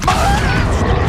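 Accio summoning spell in the Hogwarts Legacy video game: a short, loud magical whoosh with a bright, shimmering tonal streak over a dense low rumble.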